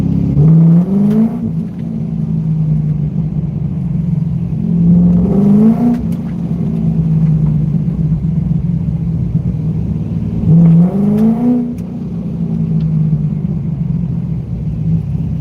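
A Corvette C5 engine idles with a deep rumble, then revs sharply three times at regular intervals, each rev rising and falling back to idle. Loud and close.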